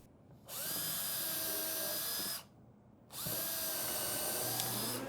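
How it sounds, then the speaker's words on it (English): A power drill drives screws into a wooden woodworking jig in two high-pitched whirring bursts, each about two seconds long with a short pause between them, close and clear with no speech. "As Jeff is driving the last few screws into his jig for assembly"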